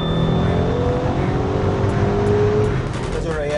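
A 2019 Mercedes-AMG GT 63 S four-door in race mode with the gearbox in manual accelerates hard, its engine note rising steadily and loud, with a gear change near the end and a faint voice underneath.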